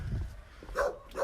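A tethered dog barks near the Kaninë castle site in Albania, a couple of short close yaps near the end over a faint low outdoor rumble.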